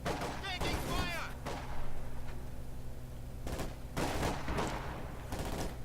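Game gunfire in Company of Heroes 2 comes as scattered bursts and volleys at moderate distance, under a low ambient battle rumble, with a voice speaking briefly.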